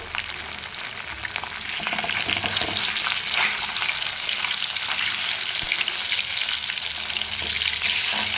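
Fish pieces fry in hot oil in a pan for an Odia-style fish curry, giving a loud, continuous, crackling sizzle heard close up throughout, with no talking.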